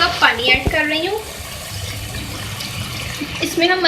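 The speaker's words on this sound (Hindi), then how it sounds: "अब मैं इसमें हाफ कप पानी ऐड कर रही हूँ।" Half a cup of water pours into a cooking pan of spicy chicken with yogurt, a short splashing burst partly under a voice, which talks before and after it.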